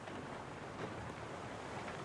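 Ocean waves rush in the video game Anno 117 as a ship sails through open water, a faint, steady broadband wash of surf and wind with no distinct events and no voices.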